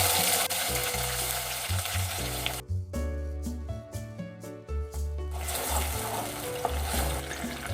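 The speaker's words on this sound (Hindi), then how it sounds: "ऑनियन पेस्ट डाल दूंगी।" Onion paste goes into hot oil with cumin for a Punjabi-style rajma curry, giving a steady close sizzle and frying hiss with some stirring, under a tonal background hum.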